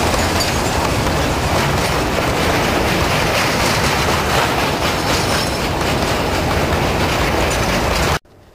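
A small industrial brickworks train rumbles along loudly and continuously, with wheels clattering on the rails, until the sound cuts off abruptly at the end.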